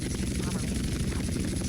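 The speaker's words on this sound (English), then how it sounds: "now land the helicopter" A steady, close video game helicopter rotor thrum in Grand Theft Auto: San Andreas, landing, with a continuous chopping low drone, unchanging throughout.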